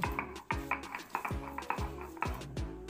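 Soaked kabuli chickpeas being ground by hand on a stone shil slab, a steady series of rhythmic scraping, knocking strokes repeating about twice a second, close and fairly loud with no talking.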